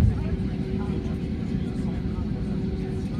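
Inside the cabin of an American Airlines Airbus A321 taxiing at Punta Cana, a steady, low engine rumble and hum that carries on without a break, with passengers talking over it.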